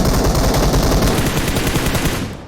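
Loud, dense automatic gunfire in PUBG Mobile, a rapid continuous burst of shots close by that runs unbroken for over two seconds before tapering slightly at the end.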